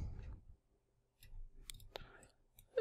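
Keyboard shortcut presses for copy and paste while working in the AC3D 3D modelling program: a few sparse, soft, close clicks in near silence, with a quiet voice at the start.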